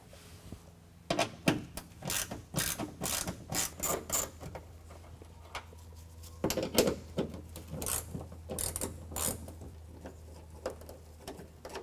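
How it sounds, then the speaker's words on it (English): Factory screws on a 2021 Ford F-150 wheel well being loosened with a 7mm socket, a series of quick ratcheting clicks in two bursts under light mechanical rattling. "We've got 2 factory screws that need to come out, again with a 7mm"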